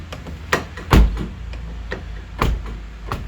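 A Peugeot 207 car door with faulty central locking being pushed shut several times, giving a series of dull thuds and latch clicks, one heavier slam near the start and another midway, with no talk.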